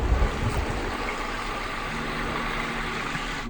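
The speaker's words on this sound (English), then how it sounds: "listen to that beautiful water there." Constant rushing of a waterfall outdoors, a broad steady wash with some low rumble and breezy noise, no voices.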